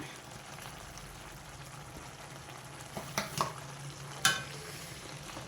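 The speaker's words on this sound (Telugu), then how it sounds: "ఇప్పుడు ఈ గోంగూరలో ఉన్న వాటర్ కూడా ఎగిరిపోయే వరకు ఉడకబెట్టుకుందాం" Chopped gongura (sorrel) leaves simmering with chicken in a pan give a low, steady bubbling and sizzle, with a few brief stirring clatters near the end.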